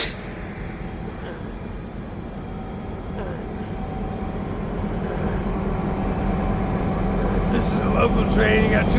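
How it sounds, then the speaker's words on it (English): A local freight train with two boxcars and two tank cars rolls past with a low, steady rumble that swells gradually, with faint distant noises over the rail drone. "Local train. You got 2 boxcars,"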